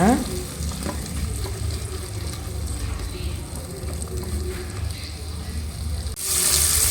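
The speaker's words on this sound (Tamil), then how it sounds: "சின்ன சைஸ் பச்சை மிளகானால இந்த மாதிரி ரெண்டாக கட் பண்ணி வச்சுருக்கேன் நீல வாக்கில் அதையும் சேர்த்துக்கோங்க சேர்த்து நல்லா வதக்கி விடுங்க" Small green chillies, slit lengthwise, fry loudly in a pan with a dense, even sizzle and stirring noise throughout, rising slightly at the end.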